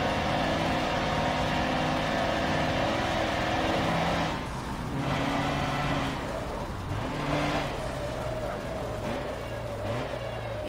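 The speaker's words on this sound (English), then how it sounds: "Yeah, it sounds so much like a sports car." Sports car engine in the racing video game Forza Motorsport 7, a steady sustained drone with shifting pitch as it revs and changes gear, loud and continuous throughout with faint background game sounds.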